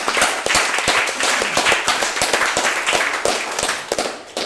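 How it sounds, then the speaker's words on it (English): A small group at a startup talk claps steadily for a few seconds, the sharp individual claps close and clearly audible. "let's clap that up"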